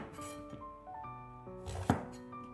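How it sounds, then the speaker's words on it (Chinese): A knife trimming the ends off a washed eggplant on a cutting board, with a single sharp close chop near the end against soft kitchen background tones. "先将头尾切掉"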